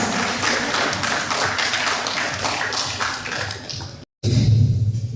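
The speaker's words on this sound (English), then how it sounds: "Please give them a big round of applause." Graduation day audience applauds the graduates, a dense, steady wash of many hands clapping for several seconds, then a sudden break and a lower rumbling noise.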